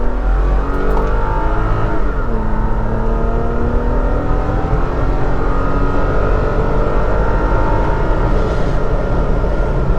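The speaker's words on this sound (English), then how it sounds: "let's do a little bit of a 0 to 60 once I get on here" Toyota Tacoma pickup engine accelerating hard from a stop onto a highway, a loud steady roar rising in pitch through gear changes, heard from inside the cab for about ten seconds.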